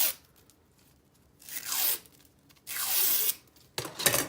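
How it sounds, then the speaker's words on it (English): A scissors blade is drawn along a ribbon to curl it, making three quick scraping, tearing swipes of rising intensity, close and crisp, with silence between. "So you take your scissors and you hold the ribbon here and you just pull."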